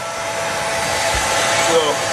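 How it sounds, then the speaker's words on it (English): A vacuum cleaner hoovers a caravan floor, a steady, close, high-pitched whine that holds an even level throughout, with only faint variation. "on the floor hoovering it up"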